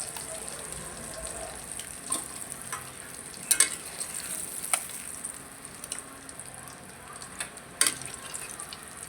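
Koi fish frying in a pan of hot oil, a low steady sizzle with scattered sharper pops and clinks of a utensil, heard close with no voices.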